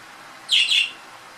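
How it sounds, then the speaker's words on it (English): A brief pair of bright chirps from pet birds kept in a home kitchen, close and clear over a faint room hiss, lasting under half a second. "And there's my little birdies."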